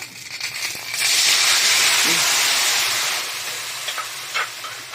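Vinegar poured into a hot pan while cooking pata estofada, a loud rushing sizzle and hiss that swells suddenly, holds for a couple of seconds, then fades with a few spits and crackles.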